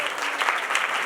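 A church congregation breaks into loud, sustained applause, steady clapping filling the whole moment with no voices standing out.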